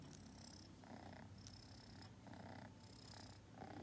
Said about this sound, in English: The camera's focusing on the cat.